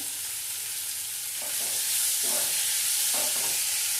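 Bitter gourd frying in a pan with mustard seeds and urad dal, a steady close sizzle with brief stirring scrapes, no talk.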